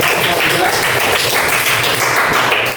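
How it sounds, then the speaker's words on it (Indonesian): Audience applause at an Indonesian Islamic lecture on the Wali Songo, a loud, dense, steady wash of clapping filling the whole moment, with voices mixed in underneath. "Ya, kasih tepuk tangan untuk"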